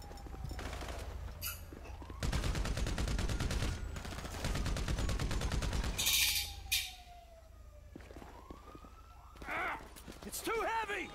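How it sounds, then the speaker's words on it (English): Gunfire in the video game GTA 5, with dense rapid volleys of close shots alongside wailing police sirens and game voices shouting in between. "Keep firing!"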